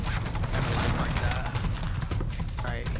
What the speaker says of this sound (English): See them on the bridge shooting at each other.